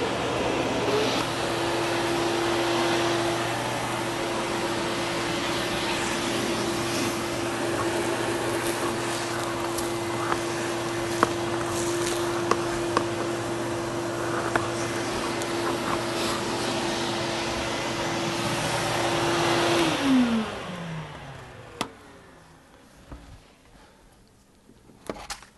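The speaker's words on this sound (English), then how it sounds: "Now I can go ahead and take the vacuum cleaner." A vacuum cleaner runs steadily while cleaning a soapstone masonry heater, a loud constant whine and roar with a fixed tone that holds for about twenty seconds, then winds down as the motor spins to a stop, leaving faint knocks.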